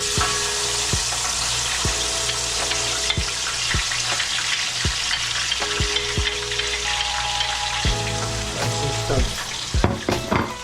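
Onion, green scallion, tomato and scotch bonnet pepper fry for Jamaican ackee and saltfish, a steady close sizzle broken by regular spoon knocks and scrapes against the pot, growing busier toward the end.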